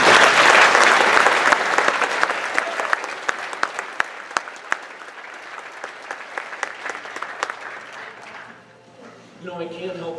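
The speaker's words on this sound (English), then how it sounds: "Let's give all these a round of applause." Audience at an FFA banquet breaks into loud, dense applause that gradually thins to scattered claps over several seconds, before a voice begins speaking near the end.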